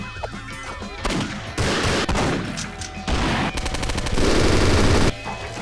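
Loud, continuous gunfire from weapons in a POSTAL 2 remake video game, with bursts of rapid automatic fire and heavy blasts shifting between weapon types, no talking.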